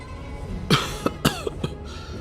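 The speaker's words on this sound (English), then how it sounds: "his withered Adam's apple moves up and down before he starts coughing vigorously" A video game character in Honkai Star Rail coughs vigorously, four or five harsh close coughs in quick succession over a soft background hum.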